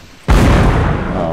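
A single cannon blast in Mount & Blade: Napoleonic Wars, an abrupt loud boom that hits suddenly and rolls out into a long, heavy rumbling decay.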